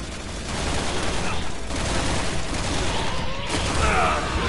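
Rapid bursts of machine gun fire from the video game Resident Evil 6, loud and close, rattling continuously with some mechanical clatter and no break in the barrage.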